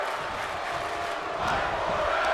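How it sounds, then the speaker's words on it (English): An arena crowd in Chicago chants "Fight Forever" during a wrestling match in the video game WWE 2K25, a dense, steady roar of many voices that swells slightly toward the end. "the crowd here in Chicago chanting "Fight Forever""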